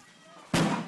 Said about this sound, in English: Then what sounded like an explosion.